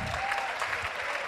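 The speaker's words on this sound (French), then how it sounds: "On peut les applaudir s'il vous plaît?" Applause from a conference audience in Paris, a dense steady wash of clapping filling the short moment, fairly loud and unbroken, with no voice over it.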